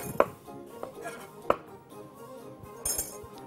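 Knife slicing eggplant into rounds on a cutting board in a kitchen, a handful of sharp uneven taps and thuds spaced apart with a light metallic clink near the end, close and fairly quiet.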